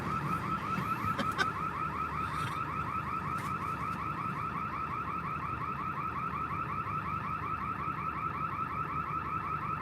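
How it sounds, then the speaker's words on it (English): A loud, steady electronic alarm pulses continuously near a road, its rapid repeating warble holding at constant volume for the whole stretch with faint traffic rumble underneath. "Burglar alarm."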